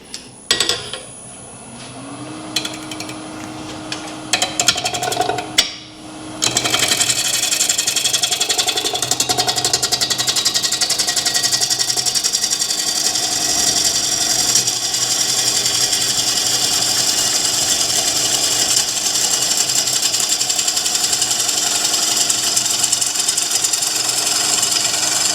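A woodturning lathe hums up to speed, then a traditional-grind bowl gouge cuts into a spinning bowl, producing a loud, continuous rough roar and chatter that holds steady for about twenty seconds.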